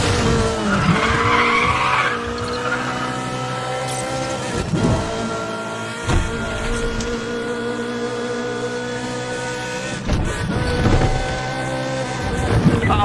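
Cars in a street race in the video game Need for Speed: The Run skid with loud, long tire squeals over roaring engines, the screeches sweeping up and down several times, close and continuous.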